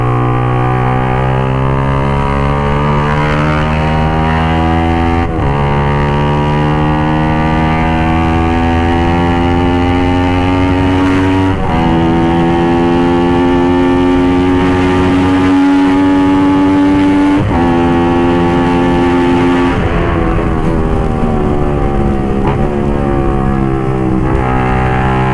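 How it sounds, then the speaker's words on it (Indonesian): Suzuki GSX-R 150 motorcycle fitted with a full-system aftermarket exhaust, ridden through city traffic in Jakarta; a loud, raspy engine note rising through the gears with repeated upshifts and steady revving, no talk. "Nah untuk knalpotnya lumayan ya, cempreng. Udah full system juga kan."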